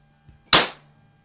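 A single sharp crack from a Crosman .22 caliber multi-pump air rifle, model 140 or 1400, fired once up close, with a short decay and quiet surroundings before and after.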